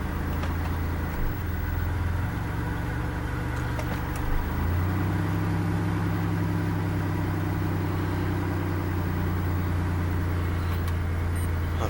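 A 1990 Oldsmobile Trofeo engine idles steadily and close by, and its low hum shifts and deepens partway through as the car is put into reverse, then settles into a steady idle.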